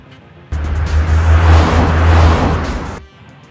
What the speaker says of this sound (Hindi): फिर वो अपने आदमियों के साथ गाड़ी में बैठकर चला जाता है।